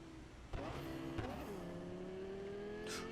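A car driving in the video game Cyberpunk 2077 gives a smooth, continuous engine drone whose pitch climbs and settles, with a brief tire hiss near the end, all fairly quiet.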